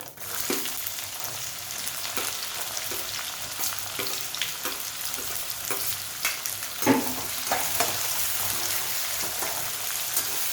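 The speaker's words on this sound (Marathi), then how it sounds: "आता यामध्येच आपण कांदा टाकून घेऊया" Chopped onion sizzles and crackles in hot oil tempering for vegetable pulao, a steady fizzing hiss with scattered sharp pops and occasional scrapes of stirring, close and alone.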